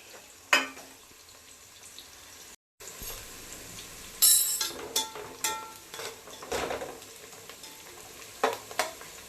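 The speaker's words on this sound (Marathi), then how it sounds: "याच्यामध्ये आम्ही कांदा फोडणीला भरपूर टाकतो" Chopped onion frying in hot oil as the tempering for a home-style chicken biryani, a steady sizzle broken by several loud scraping stirs and clinks of a utensil against the pot, heard close with no talking.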